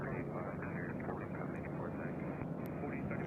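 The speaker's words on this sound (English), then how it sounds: "All right, we got Southwest Airlines coming in next." A Southwest Airlines airliner comes in to land at Nashville International Airport, its engines a moderate steady rumble at some distance, with faint background chatter from nearby onlookers.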